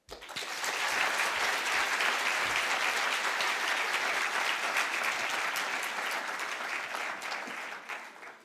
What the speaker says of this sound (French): vous demande d'applaudir chaleureusement nos invités de ce soir